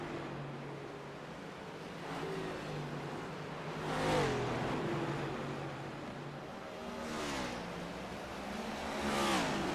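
Race cars on the Phoenix Raceway oval roaring past, with engine whines rising and falling as cars sweep by at a distance in repeated waves.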